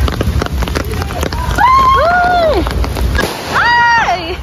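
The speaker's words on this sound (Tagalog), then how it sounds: "Yan, paputok na si Dan." New Year firecrackers go off as a loud run of pops and bangs outside a home, with people calling and talking over the noise close by.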